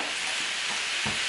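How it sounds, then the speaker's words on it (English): Food for a tater tot casserole sizzles steadily in a pan, with an onion about to go in; a loud, continuous frying hiss fills the moment, and a soft clunk sounds near the end. "I think there's a lot of noise going on with the frying"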